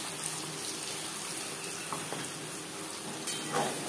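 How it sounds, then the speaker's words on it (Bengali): Spice paste hits hot oil in a kadai that has just been used to fry pointed gourd. A dense, even hiss of frying fills the whole stretch, with a couple of faint clinks. "পটল ভেজে নিয়ে কড়াইতে আবারও তেল দিয়েছি, দিয়ে দিলাম মশলার পেস্ট।"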